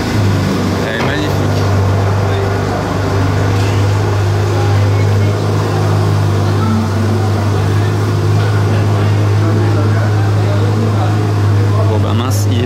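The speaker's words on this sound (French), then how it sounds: "Ah bah il y a la SF90 Spider qui va démarrer aussi." Ferrari SF90 Spider pulling away in Monaco, a low steady mechanical hum and drone close by with street bustle throughout and voices talking over it.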